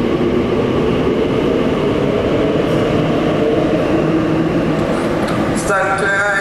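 A purple Class 345 train rumbles into the platform at Custom House station with a steady roar and rattling wheels, as a brief announcement voice sounds near the end.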